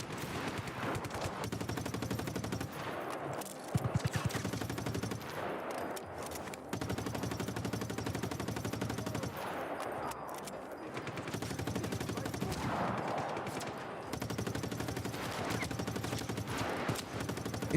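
Gunfire and RPG shots in a video game, a dense, continuous roar of automatic fire and explosive blasts, faint and steady throughout with no clear breaks.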